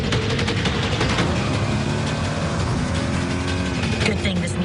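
A turbocharged 2022 Nissan Rogue's engine runs loudly and steadily under voices in an advert, a continuous motor roar holding through the whole stretch.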